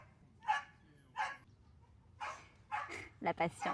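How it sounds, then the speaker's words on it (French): A dog barks in short separate bursts, two early and several later in quicker succession, moderately near, with someone speaking quietly in French around the barks in an indoor setting. "J'attends que le chien arrête d'aboyer"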